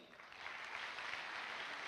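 An audience claps steadily in a hall, a dense, sustained patter of many hands that swells slightly after the start and holds at an even level without any talking.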